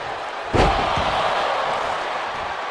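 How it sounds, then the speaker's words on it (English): One heavy slam as a wrestler crashes into the turnbuckles in the WWE 2K25 wrestling game, a short booming thud followed by a lighter rebound knock and then steady crowd noise. "Breaker reverses it and sends Gunther crashing into the turnbuckles"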